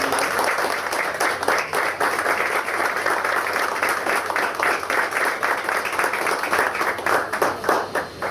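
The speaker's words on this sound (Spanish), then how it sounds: "Creo que los esposos se merecen un fuerte aplauso de alegría." Steady applause from a gathered crowd honoring a couple at their golden wedding anniversary celebration, dense clapping sustained throughout at an even, lively level.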